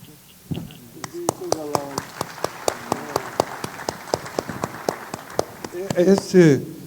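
An audience at a literary festival conversation claps after a poem reading, sharp evenly spaced claps ringing out while a voice talks over them and a louder burst of speech closes.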